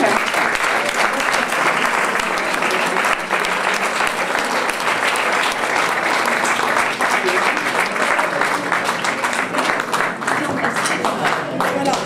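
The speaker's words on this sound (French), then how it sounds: "je crois qu'on peut l'applaudir" Sustained, dense applause from an audience honouring a prize-winning online novelist at a literary award ceremony, steady and loud throughout with no break.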